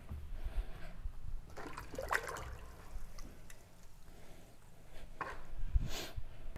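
Leather pieces for a saddle swell bag being dunked in water to case them, giving splashing, sloshing bursts and trickles at close range with brief quiet gaps between.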